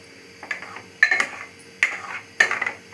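A spoon scrapes and clinks against a metal pot while milk sweet is stirred, giving several distinct metallic knocks in an irregular rhythm, close and fairly loud, with no talk.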